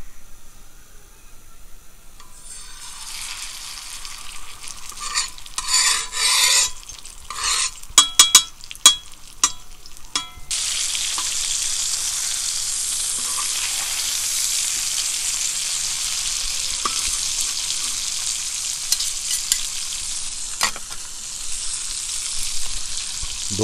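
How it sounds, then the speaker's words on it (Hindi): Fish frying in hot oil on a tawa griddle, starting quiet, then a few sharp clinks and scrapes of a spatula before a strong, steady hiss of sizzling takes over and continues close and loud. "फिश को फ्राई करेंगे।"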